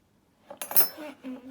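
Forks and spoons handled during a child's pattern-making game at home, giving a few soft clinks and taps close by, with quiet voices murmuring between them.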